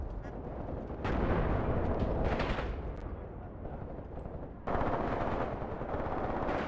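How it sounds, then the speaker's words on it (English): Continuous erratic gunfire in the WWII tactical game Graviteam, with bursts of machine-gun fire and bullets cracking as they whiz overhead, loud and sustained with two sharper surges. "Erratic sounds, cracking bullets as they whiz overhead."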